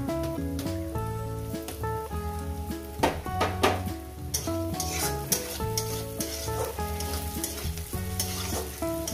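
Ginger sizzles in a pan with frying green chilli and onion, making a steady crackling fry with occasional stirring scrapes and soft bursts of spatter, under a tonal background and with no talking.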